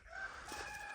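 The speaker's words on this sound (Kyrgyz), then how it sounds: "куштардын үнү угулуп," A rooster crows faintly in the distance, heard outdoors at a quiet country dacha, a brief call over soft background ambience.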